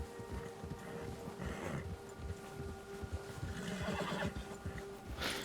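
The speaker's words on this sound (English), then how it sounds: "My horse is getting scared." Frightened horse in Red Dead Redemption 2 neighing and whinnying with hoof clip-clops and ambient game sounds, fairly faint beneath a steady background hum.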